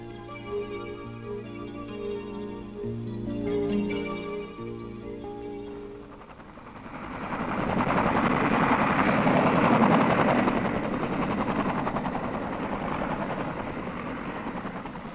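A helicopter flies over the Chernobyl station in autumn 1986. Its rotor thrum swells loud and close after a stretch of music, then stays steady.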